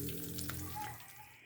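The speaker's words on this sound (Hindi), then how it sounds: "भाप में पकाऊँगी इसको मैं इतनी आंच पे।" Stuffed masala-filled green chillies steaming under a lid over the flame, giving a steady soft hiss and faint sizzle with a low continuous hum, close and fairly quiet throughout.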